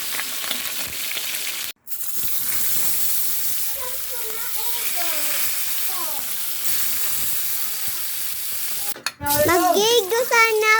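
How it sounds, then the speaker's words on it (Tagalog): Food fries in a pan for home cooking with a steady, close hiss and sizzle throughout, while a voice speaks in a sing-song manner over it and then more loudly near the end. "Prito na si Mama."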